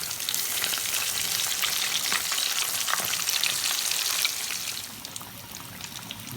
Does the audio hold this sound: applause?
no